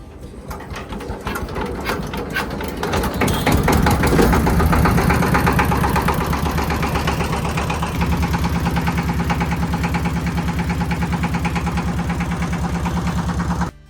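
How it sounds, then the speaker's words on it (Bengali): A large wooden passenger trawler's engine chugs steadily, loud and close, on a river trip toward the floating guava market near Bhimruli in Barisal, its rapid, even knocking beat holding without a break throughout. "আমাদের ট্রলারটি ভীমরুলের উদ্দেশ্যে যাত্রা শুরু করলো"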